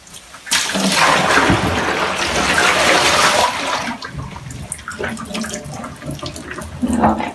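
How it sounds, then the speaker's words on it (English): Water draining from a basin after a wig has been washed, a gushing rush that swells quickly and then eases into softer gurgling and trickling, close by. "And I'm going to drain that water."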